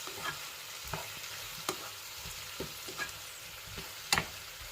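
Spices, including berbere pepper and a little salt, stirred together in a pan: a spoon scrapes in irregular strokes against a low sizzle, close by, with no voices.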